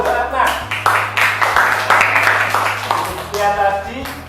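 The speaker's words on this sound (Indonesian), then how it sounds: "tepuk tangan buat Mbak Ratna" Classroom clapping for a student presenter after a group presentation, a short burst of hand claps mixed with children's voices and a steady electrical hum underneath.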